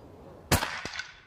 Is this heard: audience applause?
no